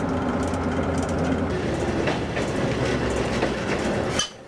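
X3800 Picasso diesel railcar rolling on rails just after a gear change, with steady close clickety-clack and wheel rumble that cuts off abruptly at the end.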